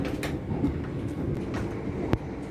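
Steady rumble of a passenger train running from London toward Gatwick, with continuous low rolling noise and a brief sharp clack or bump near the end.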